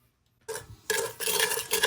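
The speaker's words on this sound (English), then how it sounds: "I'm gonna make sure I mix everything in there." A spoon stirs sugar, instant coffee granules and boiling water together in a bowl for dalgona coffee, with a few close scraping and clinking strokes after a brief silence.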